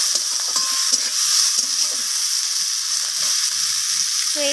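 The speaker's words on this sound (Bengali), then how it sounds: "পেঁয়াজটাকে আমি ফোড়নের সাথে একটু হালকা বাদামি রং ধরে আসা পর্যন্ত ভেজে নেব" Onion frying in oil with tempering spices for a spinach dish, a loud, continuous hissing sizzle with faint stirring and light clinks underneath, no talking.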